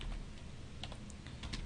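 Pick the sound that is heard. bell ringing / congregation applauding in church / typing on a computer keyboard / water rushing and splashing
typing on a computer keyboard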